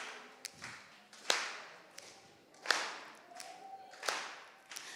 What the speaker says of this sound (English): So everybody here can clap and snap their fingers, right?